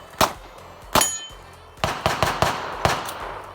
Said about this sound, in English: The gun started to double fire